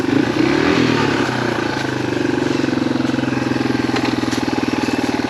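A Yamaha XT225 dual sport motorcycle climbs a trail, its single-cylinder engine thumping in a loud, even, close pulse that settles into a steady pulling drone, with no voices.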